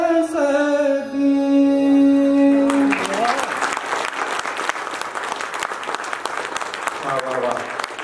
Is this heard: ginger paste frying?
no